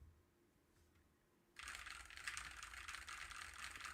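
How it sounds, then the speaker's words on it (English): Mechanical computer keyboard typing starts after a quiet second and a half, then runs as a dense, steady patter of close, crisp key clacks with no voices. "Like you wanna listen to this keyboard, for example."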